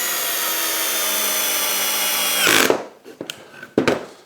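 A Festool cordless drill driver whirs steadily up close, driving a roughly 50 mm by 5 mm screw into wood, then stops abruptly, followed by a few brief knocks and handling sounds.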